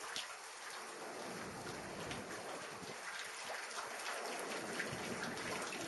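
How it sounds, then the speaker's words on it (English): Steady rain patters and drips continuously, a dense soft hiss with scattered droplet ticks throughout. "I love the sound of the drip drip."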